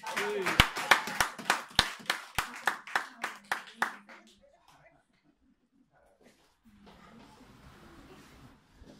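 A church congregation claps in a quick run of about a dozen sharp, loud handclaps that fade out, followed by quiet room noise and faint murmuring.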